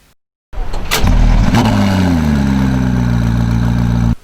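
A McLaren P1 engine fires up after a brief silence, catching with a loud burst and settling into a steady, powerful idle that drones on close by.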